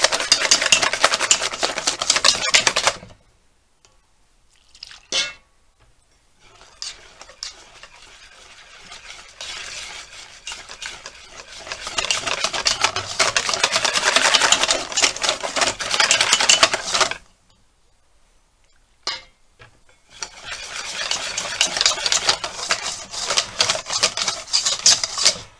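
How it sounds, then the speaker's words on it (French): Crêpe batter being whisked with milk in a bowl, a fast, busy scraping whir in long bursts separated by brief pauses, close and fairly loud with no talking. "Je vais attendre d'avoir bien mélangé avant de rajouter de nouveau du lait."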